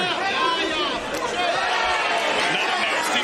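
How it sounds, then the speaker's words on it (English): A crowd roaring at an MMA fight after a knee strike, loud dense cheering and chatter that swells and holds for several seconds. "You heard the crowd."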